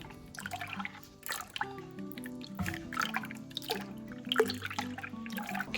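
Rennet is stirred into a pot of milk for fresh cheese, producing close-up liquid swishing and dripping with small clinks, continuous and fairly quiet.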